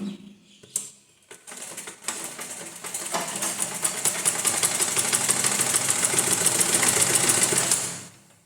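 A sewing machine stitching blouse fabric begins with a few handling clicks, then ramps up into a steady rapid mechanical whir that runs loud and close before stopping near the end.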